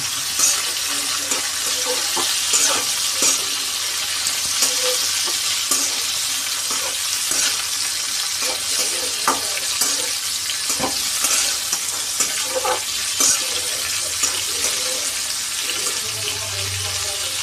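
Bitter gourd slices with lemon and green chili stir-frying in a pan, a steady loud sizzle with scraping stirs and occasional clinks throughout, no voices.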